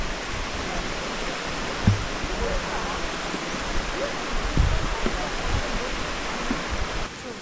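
A waterfall along a mountain ride route in the Philippines rushes as a dense, continuous broadband roar, steady and fairly loud, with a couple of brief thumps over it.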